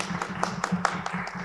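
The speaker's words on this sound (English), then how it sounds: "Let's give our speaker one more round of applause." Sparse applause from a conference audience after a talk at an academic visualization session, a handful of claps spaced evenly over a low steady room hum.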